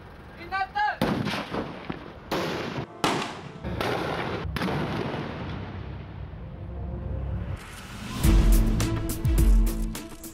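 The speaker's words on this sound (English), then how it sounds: "the high velocity jet of water will be discharged out from the pig stick itself" A bomb disposal pig stick water jet disruptor fires a high-velocity jet of water at a suspected explosive device, giving several loud, sharp blasts that echo across the open site, then a heavy booming rumble near the end.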